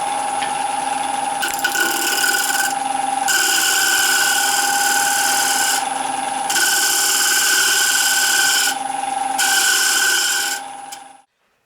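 A wood lathe hollows a segmented vase of black walnut and curly maple with a steady mechanical hum and whine, while the cutting tool scrapes in long rasping passes broken by short pauses before the machine winds down.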